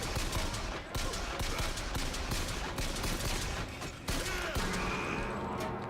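Dense, relentless gunfire from the BioShock Infinite video game: a loud, near-continuous barrage of overlapping shots and bursts that fills the clip, with one brief dip before the shooting surges again.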